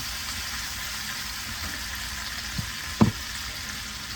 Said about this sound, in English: Give this bacon a stir